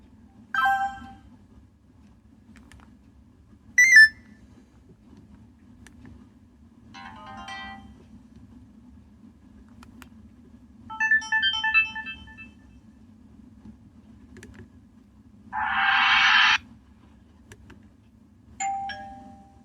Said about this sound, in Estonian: Võimalikud sõnumi märguande helid on järgmised.